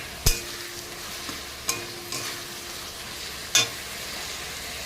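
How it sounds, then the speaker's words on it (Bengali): Garlic, onion and green chili paste sizzles steadily in a pan, a continuous frying hiss broken by a few sharp clinks and scrapes of a spatula stirring the spices. "আমার মশলাটা ভাজা হয়ে গেছে"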